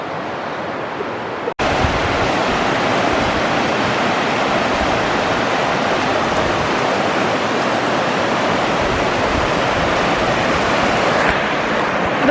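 Rushing river water in the Zion Narrows canyon, running high in the afternoon, as a loud, continuous roar that starts abruptly and holds steady.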